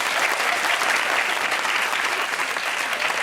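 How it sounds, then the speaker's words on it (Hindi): A television talk-show studio audience gives a standing ovation, a thick, continuous wash of clapping from many people that stays loud and even throughout the few seconds. "खड़े होके तुम्हारे लिए ताली"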